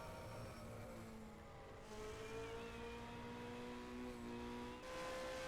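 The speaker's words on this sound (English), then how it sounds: "There goes Juha by in his BRM." A BRM Formula 1 race car from the 1965 season passes by during a race, its engine a steady, faint droning whine with shifting pitch that rises as it goes by, heard at a distance with no talking.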